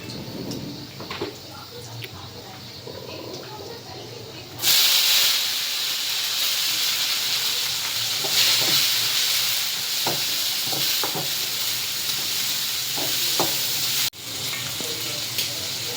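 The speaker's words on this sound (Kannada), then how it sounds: "ಸ್ವಲ್ಪ ಹೊತ್ತು ಫ್ರೈ ಮಾಡಲಿ" Onion, tomato and green chilli frying in a pan for a North Karnataka pundi palya chutney, giving a steady close sizzle and hiss that jumps louder partway through, with faint stirring clicks.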